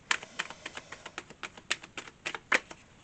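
A deck of tarot cards is shuffled, giving a quick run of soft, crisp taps and flicks at an uneven rhythm, close and quiet, with no speech.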